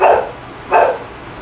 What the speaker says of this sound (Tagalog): may nag-iingay na aso